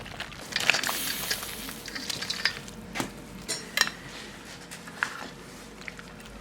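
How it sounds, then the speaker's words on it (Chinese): Chicken pieces and pig trotters tipped into a clay casserole pot, a clattering, wet tumble with a cluster of sharp knocks and scrapes in the first seconds, then a few scattered clinks over a faint sizzle. "过好水的鸡肉、猪蹄儿捞到倒砂锅里"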